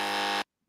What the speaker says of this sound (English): Can you buzz him maybe a little longer? He heard the buzzer, George.